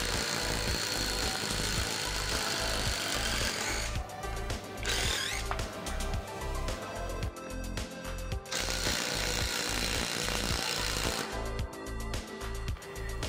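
A Nagawa 16V brushless impact driver runs under load with rapid, loud hammering bursts that repeatedly stop and restart, then cuts out while the trigger is still held.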